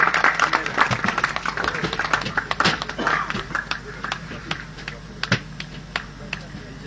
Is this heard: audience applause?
yes